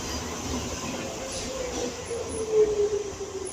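Docklands Light Railway train at the London City Airport terminus, a steady rumbling hum with a faint rising whine of wheels or motors, close and continuous.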